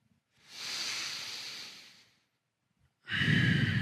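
Deep breathing during a hip and thoracic mobility exercise routine: one long, slow audible exhale lasting over a second, a short pause, then the start of a strong, close breath.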